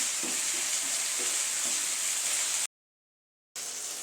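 Cut tomatoes sauté in a pan for mutton curry, giving a continuous bright sizzle with faint stirring, broken by a second of complete silence before the sizzle resumes.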